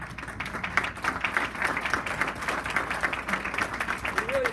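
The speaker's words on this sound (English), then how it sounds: "I just want to give a round of applause to the parents that have children at Delta State right now." An audience of parents and alumni at a Delta State University chapter meeting claps in steady applause, a dense patter of many hands held at an even level, with some voices mixed in.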